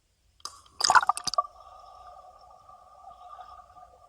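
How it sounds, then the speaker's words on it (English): A person jumps off a platform into the water of Cenote Dos Ojos near Tulum, Mexico, making a brief burst of splashing, then a steady ringing tone with trickling water. "as I hit the water."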